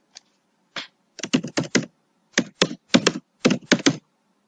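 Computer keyboard keys tapped during questionnaire data entry into SPSS statistics software: a single tap, then quick clustered bursts of crisp clicks in three groups, close and clear with no talking.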